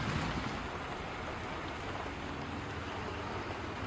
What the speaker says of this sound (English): Hey Jones, what are you doing out in the rain?